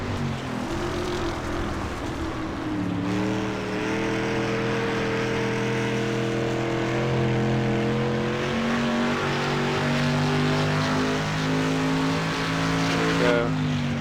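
A dirt race car engine in the iRacing sim drones steadily, its pitch rising and falling as the throttle is fed on and off, loud and continuous throughout.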